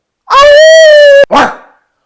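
A person vocally imitates a dog, giving one loud sustained bark-like howl followed by a short second yelp, close and alone.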